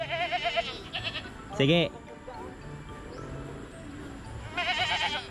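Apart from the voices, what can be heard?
goats bleating on a mountain farm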